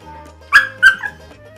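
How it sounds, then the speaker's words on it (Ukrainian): A dog gives two sharp barks in quick succession, followed by a softer short yelp, close and clear against a quiet background. "Правильно, це собака."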